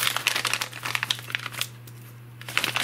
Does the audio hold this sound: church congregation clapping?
no